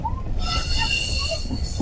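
Hazara Express train rolling into the Shujabad railway station yard, with high metallic wheel squeal and sustained ringing tones over a low rumble of the moving carriages, close and fairly loud.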